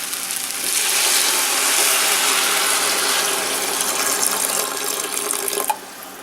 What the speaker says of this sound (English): just enough water to kind of bury the whole thing